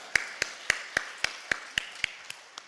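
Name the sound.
congregation applauding in church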